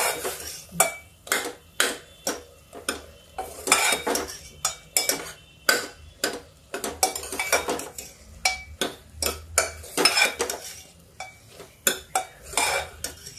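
A spoon stirs and scrapes mashed potato with peas and tomato in a pan. Sharp metallic clinks and scrapes come close up in an irregular rhythm, with some softer stirring between them and no talking.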